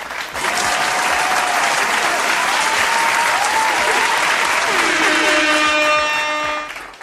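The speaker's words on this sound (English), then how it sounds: "give a round of applause for the homie, Final Whistle Podcast, Javon" Studio audience claps and cheers to welcome a podcast guest, a dense, loud burst of applause that swells quickly, holds steady for several seconds, then tapers off near the end.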